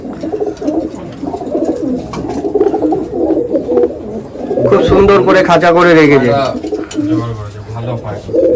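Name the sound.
Madrasi pigeons cooing in loft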